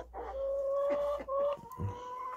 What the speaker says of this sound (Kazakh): Басатын тауықтың өзі қырқылдап, жұмыртқаны қызғанып